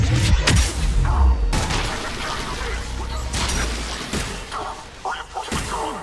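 Bursts of gunfire and heavy impacts ring out during a battle in the video game Mass Effect 3, loud at first and then sporadic, mixed with mechanical clatter.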